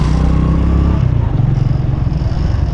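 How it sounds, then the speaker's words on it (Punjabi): Motorcycles on a road near road-blocking containers, a loud close low engine rumble that holds steady, then shifts into a rougher pulsing drone as the bikes pass. "ਉਹ ਮੋਟਰਸਾਈਕਲ ਜਾ ਰਹੇ ਨੇ ਉਧਰੋਂ ਦੀ ਯਾਰ"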